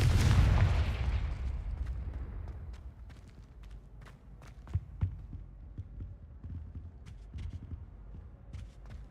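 In the video game Hogwarts Legacy, the Confringo blasting spell lands as a deep, heavy boom at the start, followed by fading rumble and a few sharp cracks and thuds.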